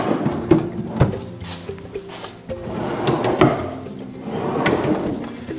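Full-extension drawers on a solid oak cabinet with hard maple shelves are pulled out and pushed shut, giving several close wooden slides, rumbles and knocks spread across a few seconds, with no speech.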